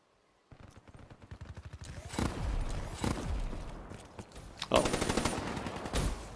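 Rapid automatic gunfire in the Black Ops 3 video game, dense bursts of shots with a few louder heavy blasts, close and loud, no speech.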